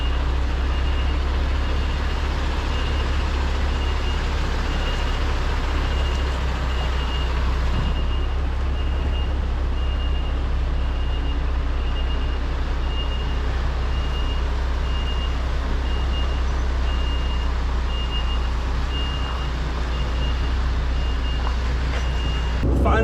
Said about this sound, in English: so I try and park the trailer in the middle of their yard so they could get access on both sides.